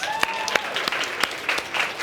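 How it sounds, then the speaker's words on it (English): An audience at a speaking event in Chattanooga, Tennessee claps for the speaker's mother, a short burst of scattered, fairly light applause with distinct individual claps rather than a roaring ovation. "Let's give her a round of applause"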